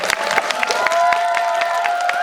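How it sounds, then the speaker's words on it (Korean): An audience applauds at a film screening Q&A for the Korean film 'The King's Warden', a dense patter of clapping over a steady sustained tone in the room. "장항 감독님께 박수 한번 치고"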